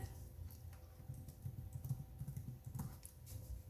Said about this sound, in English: Go to Google Translate, type in the word.